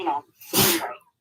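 A single loud, close sneeze bursts out in the middle of a live political debate broadcast, with a brief spoken word before it and the start of another voice right after.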